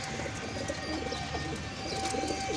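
Pigeons in a rooftop pigeon house coo softly with scattered chirps over a steady low background hum, with no talking.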